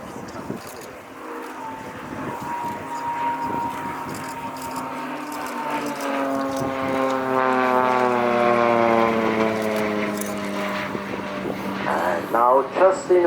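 A Swiss Pilatus PC-7 propeller plane flies aerobatics at an air show, its drone rising and sweeping in pitch as it passes, while an announcer talks over the engine.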